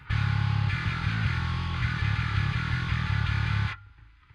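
A heavily distorted electric guitar plays a short, dense riff through a Neural DSP Parallax multiband distortion, thick and saturated, ending abruptly into quiet.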